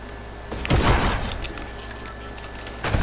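Trick-shot gunfire in the Fortnite video game: a loud burst of shots and booms early on, a sustained noisy rumble, then another sharp blast near the end, with no talking.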